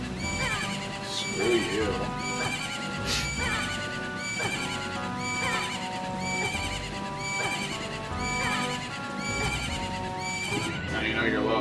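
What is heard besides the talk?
horse neigh used as the low health sound in the Majora's Mask Randomizer video game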